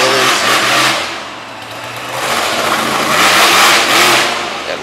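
The War Wizard monster truck, a 2041 Willys, revving its engine hard at a monster truck event in Harrington, Delaware, with a loud, rough roar rising and falling in surges, close and dominant.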